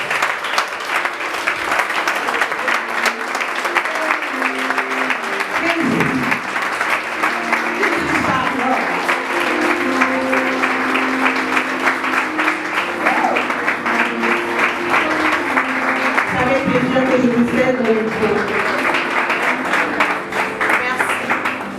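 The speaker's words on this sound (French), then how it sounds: "Je vous prierai qu'on puisse ensemble l'applaudir pour l'encourager dans son discours" Sustained applause from a dinner audience at an NGO gala evening, steady and dense throughout with voices murmuring underneath and some low tones mixed in.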